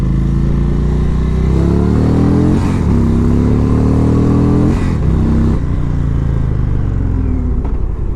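A 2017 Indian Springfield bagger motorcycle rumbles loud and close while riding, its engine note rising and falling through the gears and easing briefly in between.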